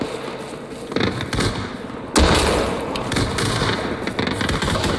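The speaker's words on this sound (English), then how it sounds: "You want me to frag? Grenade out." A frag grenade explosion in Arma 3 during an infantry room-clearing operation, a sudden loud blast partway through followed by a rumbling decay, amid ongoing crackling gunfire and noise.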